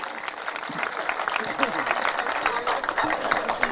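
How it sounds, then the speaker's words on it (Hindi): Applause breaks out from the audience at a Hindi comic poetry gathering (hasya kavi sammelan), a dense, steady clatter of many hands that carries on throughout. "जोरदार तालियां बजाइए।"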